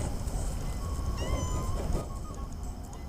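A stray mother cat meows at night on a construction site, brief harmonic calls rising over steady low background rumble and noise, fairly near.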